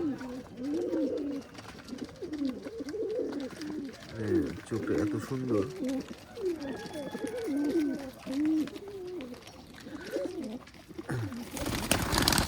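Pigeons coo in repeated low, throaty rolling calls close by, overlapping one another in a steady chorus, with someone speaking briefly over them.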